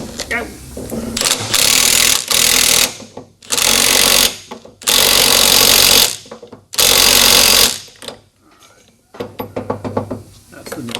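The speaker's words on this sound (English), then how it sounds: "I'm gonna go ahead and drive this guy on there with this yoke and the old nut." A pinion yoke is driven onto a Falcon rear end with the old nut, loud sustained bursts of a power tool, likely an impact wrench, hammering in several long runs with short gaps, then lighter rattling.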